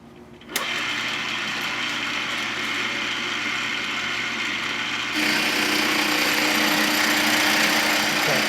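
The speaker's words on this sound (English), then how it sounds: "I'm going to show the machining task just real quick" A milling machine cuts a scope rail for a Romanian PSL sniper rifle, its loud, steady grinding starting abruptly after a brief quiet moment and shifting to a slightly harsher, louder tone partway through.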